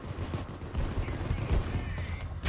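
Gunfire in the video game Payday 2, with rapid bursts of shots clattering over a few seconds, fairly faint, with a little talk behind it.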